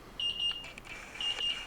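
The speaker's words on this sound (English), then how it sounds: "Let's shut up the timer." A kitchen timer beeps after a batch of beer bread has finished baking: two bursts of rapid, high electronic beeps with a short gap between them, close and fairly loud over a quiet kitchen, with no talking.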